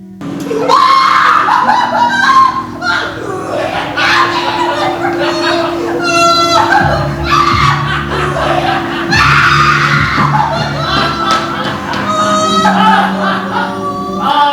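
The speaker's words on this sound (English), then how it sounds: "You must not scream like that" Shrill screaming, loud and near, rises and falls again and again over a steady low hum, broken by bursts of harsh noise.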